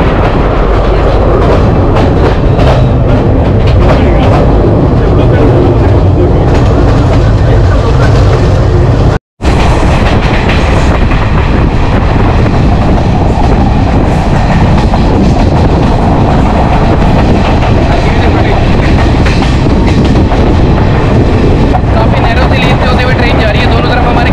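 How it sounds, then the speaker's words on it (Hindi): A passenger train running along the rails in Sri Lanka, heard from on board as a loud, steady rumble with rhythmic rail clatter throughout, broken by one brief dropout partway through; voices are faintly present in the background. "ट्रेन स्टार्ट हो गई भाई।"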